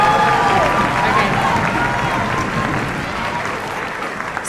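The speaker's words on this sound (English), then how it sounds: "Another round of applause for our beginner band." An audience at an elementary school beginner band concert claps loudly and continuously, a dense roomful of applause that eases slightly toward the end.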